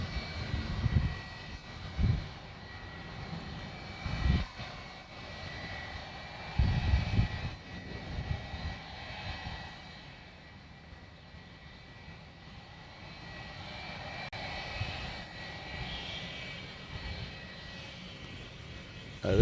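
A FedEx jet roars on departure from Honolulu airport, a broad continuous engine rumble that holds steady from a moderate distance, with some intermittent heavy low thumps near the start.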